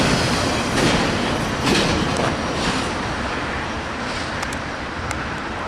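Norfolk Southern freight train passing on the Fort Wayne line, a loud continuous rumble of rolling railcars with rhythmic wheel clatter and occasional squeals, gradually easing slightly toward the end.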